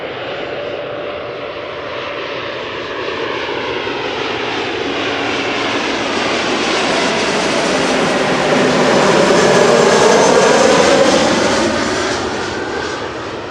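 A KLM Embraer 190 jet arriving at Amsterdam Schiphol roars steadily close by, its engine noise swelling to a peak and then easing slightly as it passes.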